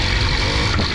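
Motorbike engine roaring loud and steady through a wheelie, a dense continuous mechanical drone with a brief dip near the end.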